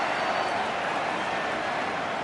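Crowd roar in an AFL Evolution 2 football match, a steady broad wash of cheering and applause from a large stadium audience that holds evenly throughout, with no distinct voices standing out.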